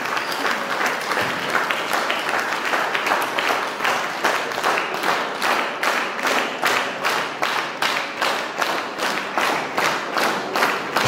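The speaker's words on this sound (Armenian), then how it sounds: "Եկեք, որպես երախտիքի բոլորս ոտքի վրա ծափահարենք մեր մեծանուն մանկավարժին" An audience at a school gathering stands and claps for an honoured teacher, giving loud, sustained applause that settles into a strong, even rhythmic clapping in unison toward the end.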